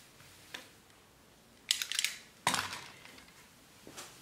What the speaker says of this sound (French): nous allons prendre notre cutter et en fait découper cette partie.